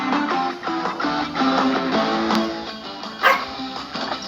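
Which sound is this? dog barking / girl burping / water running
dog barking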